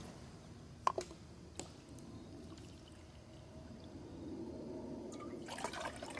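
Water pours steadily into a mess kit measuring cup, faint and close, with a few light clinks before the flow grows fuller near the end.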